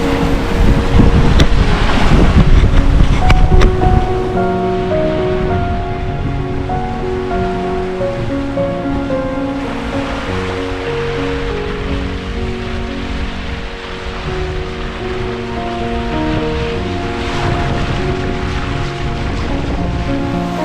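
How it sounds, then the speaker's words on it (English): A sailboat running wing on wing sweeps through wind and waves at sea, with steady rushing water and wind buffeting the microphone throughout, loudest in the first few seconds. "So the wind has come down, but we are still sailing, wing on wing, beautiful"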